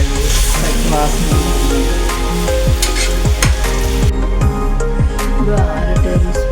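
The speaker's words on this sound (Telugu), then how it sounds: "ఇలా ఆకు వేసుకున్న తర్వాత ఇలా కలుపుకోవాలన్నమాట" Spinach leaves being stirred in a hot pan give off a loud, continuous sizzle, with repeated scraping stir strokes throughout.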